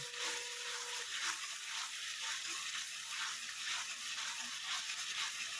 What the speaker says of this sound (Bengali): এটাকে একটু ভালো করে কষে নেবেন।